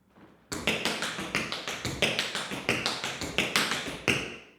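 Tap shoes beat out a rapid, steady run of triplet paddle-and-roll strikes opening with a heel drop, crisp close clicks in an even rolling rhythm for about four seconds, with no voices.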